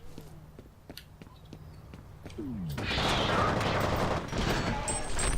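Gunfire from the video game F.E.A.R. crackles in short bursts, faint sharp shots at first and then a denser, louder stretch of rapid firing with clattering effects filling the second half.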